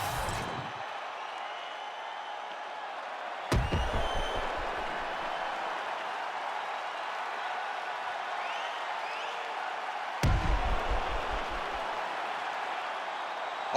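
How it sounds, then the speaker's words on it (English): Crowd cheering and applauding at a UFC 5 video game fight night, a steady wash of arena crowd noise with two sharp impacts or bursts punctuating it. "the crowd voicing its appreciation after that crazy sequence in the previous round"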